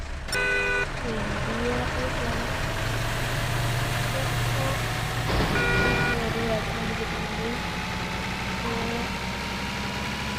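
A truck in the GTA video game hums with a steady mid-pitched engine drone, and two short horn toots sound near the start and midway through.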